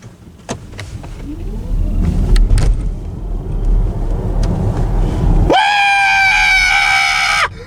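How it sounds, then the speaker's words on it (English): A 2022 Skoda Enyaq iV electric car accelerates: steady cabin and road rumble first, then a loud, rising electric-motor whine that swells suddenly and holds through the final two seconds. "now I'm going to test the acceleration of the Skoda Enyaq"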